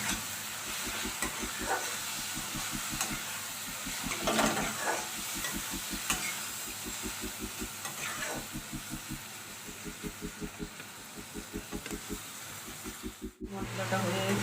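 Cumin, turmeric and chili spices fry in a pan with a steady sizzle and hiss, stirred now and then, with a rhythmic low hum running underneath and a brief clatter near the end.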